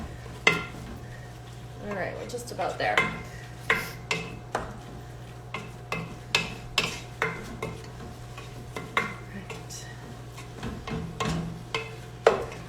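Turkey chili meat is broken up and stirred in a pot, with repeated scraping and tapping strokes at a steady rhythm over a low hum and a soft sizzle while a person talks briefly.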